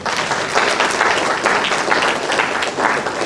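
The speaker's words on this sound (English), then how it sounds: "So clap for yourself." A university lecture audience claps together, a dense, steady wash of applause filling the hall for a few seconds, loud and close, with no speech over it.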